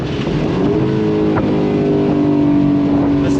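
A 2024 Aston Martin DB12 Volante convertible's engine revs after a downshift: a loud, close, rich drone that holds and builds steadily, with a brief sharp blip partway through.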